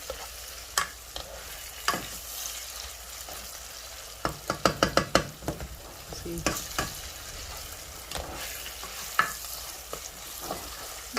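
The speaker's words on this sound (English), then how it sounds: "So stir, stir. Mushrooms are almost done." Mushrooms stirred in a frying pan, a steady sizzle under repeated scraping and clattering strokes of a utensil, with a quick burst of clacks midway, close and alone.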